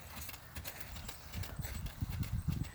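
A young horse, only a few months under saddle, trots in Virginia with steady rhythmic hoof clip-clop that grows louder and closer toward the end, with no talk over it.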